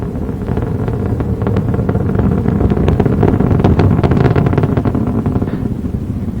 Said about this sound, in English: Endeavour's engines throttling down now as the orbiter passes through the area of maximum dynamic pressure